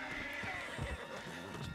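A horse in the video game Red Dead Redemption 2 lets out a close whinny, with soft hoof clops and faint background game noise around it.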